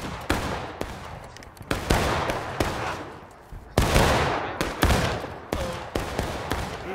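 Musket volleys crack out in War of Rights, a Civil War game: sharp, loud shots fired one after another at irregular intervals, some close and some farther off, over a din of battle.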